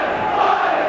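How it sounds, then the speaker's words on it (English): A large rugby league crowd at Warrington roars in a dense, loud wall of cheering and chanting voices that swells slightly for a moment, with no single voice standing out. "The Warrington crowd getting behind their team"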